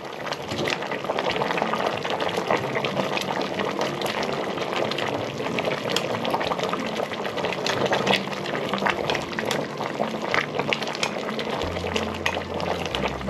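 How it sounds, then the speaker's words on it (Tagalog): Sinigang soup simmers in a pot with steady, dense bubbling as it is stirred, a continuous wash of liquid sound lasting throughout with no pauses. "Kailangan po haluin natin mabuti siyempre para yung ating nilagay na paasim ay pumunta po sa ilalim"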